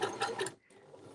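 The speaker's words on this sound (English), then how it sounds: "I'm just going to do a couple of backwards and forwards stitches to make that knot" Sewing machine running a short burst of back-and-forth stitches through paper to lock the thread, a close mechanical whirr that pauses briefly and starts again.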